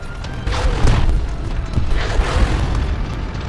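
Deep booming tank gun fire in the War Thunder video game, rumbling blasts with rolling echoes and continuous low engine noise underneath, loud and near.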